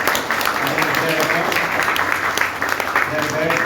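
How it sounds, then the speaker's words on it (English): Audience applause at a DAV Secondary School program in Gopalapuram, Chennai, a steady wash of clapping running through the clip with a voice talking over it. "So big round of applause to the Acharyas first"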